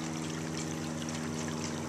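Dirty running stream water flows continuously while a stainless steel water bottle is dipped into it, giving a soft, steady trickling rush heard close and alone.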